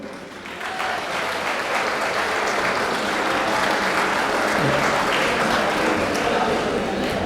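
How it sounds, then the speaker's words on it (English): An audience at an institute day cultural programme breaks into dense, continuous clapping for a winning group. The applause swells quickly after a brief moment and stays full and loud to the end. "A big clap to the 4th group."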